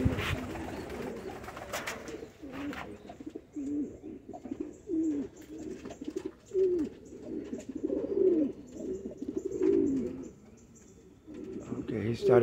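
Spanish pouter pigeons coo repeatedly in soft, rolling bursts nearby, with a faint chirp or two in the background.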